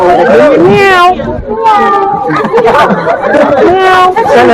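A voice mimics a cat's meow, with several stretched, wavering meows rising over lively children's chatter and babble among a large group of youngsters gathered on a hillside.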